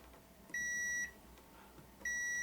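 An Elechomes humidifier gives two short, clear electronic beeps about a second and a half apart while its timer is being set, close and loud against a quiet room.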